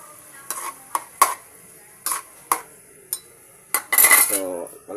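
Eggs with tomatoes fry in a pan while a utensil scrapes and clinks against the metal in a series of sharp, irregular taps. A brief sizzling burst rises near the end.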